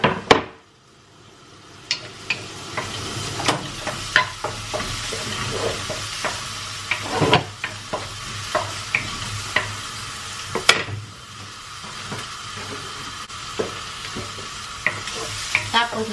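Kabulyaw fish frying in a pan with a steady sizzle, broken by scattered utensil clacks and scrapes from stirring, close by with no voices.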